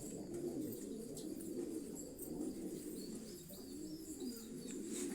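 Pigeons at a loft in Quetta coo in low, rolling calls that overlap continuously, with occasional chirps and faint wing flaps over steady outdoor ambience.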